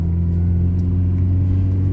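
A used car's engine idles and hums steadily with low rumble as the clutch engages, a faint whirring transmission noise sitting under the drone, close and continuous with no talk.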